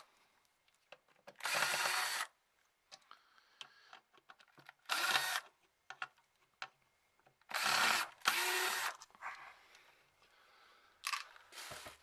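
A power drill unscrews screws in several short, close whirring bursts separated by quiet pauses and small handling clicks.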